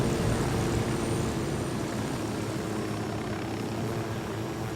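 A helicopter in Ghost Recon Wildlands keeps up a steady, dense rotor-and-engine roar, close and constant, with no talking over it.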